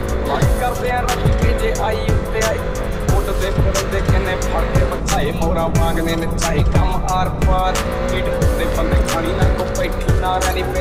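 A KTM Duke motorcycle rides a wheelie on its rear tyre through city traffic, its engine revving loud and close with rising and falling throttle blips, horns and traffic noise around and a voice talking over it.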